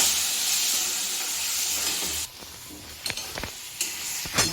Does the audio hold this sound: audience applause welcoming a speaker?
no